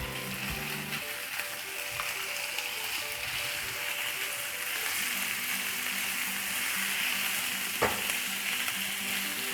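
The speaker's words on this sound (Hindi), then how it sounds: "अच्छी तरह चिकन के कीमे को भून लेंगे ताकि स्मेल इसकी ख़त्म हो" Chicken mince browning in a hot pan, a dense close sizzle and hiss running steadily throughout, with a few sharp stirring knocks and no voices.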